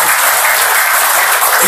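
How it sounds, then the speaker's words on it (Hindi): Dense, loud clapping from an audience at a group exercise session, a continuous wash of hands with no pauses across the short stretch. "ताली बजाइए प्लीज।"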